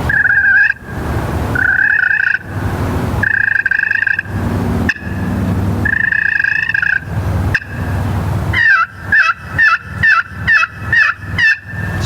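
Turkey pot call played in soft, rolling purrs that build into a quick run of sharp, evenly spaced clucks near the end, close and loud with no talking.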